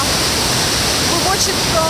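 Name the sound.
waterfall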